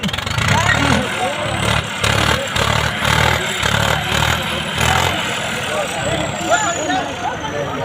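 Tractor engines at a village tractor contest in Pinda Bhai Desa, including New Holland tractors, rumbling loud and close with a pulsing, uneven throb while a voice talks over them.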